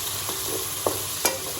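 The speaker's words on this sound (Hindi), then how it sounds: "मैं इसमें अब थोड़ा सा दही डालूंगी।" Yogurt goes into a curry frying in a new non-stick pan, a steady sizzle with a few sharp stirring scrapes, close and alone.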